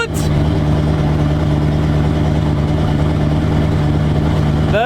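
Drag car engine idling loud and close after a starter swap, a steady rough low rumble with a constant hum, alone throughout.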